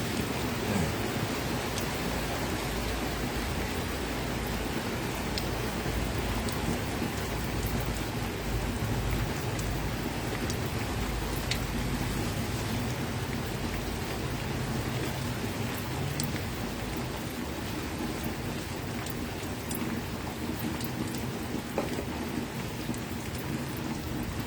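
Steady, dense rain falling continuously for the whole stretch, with faint rumbles of distant thunder and no voices.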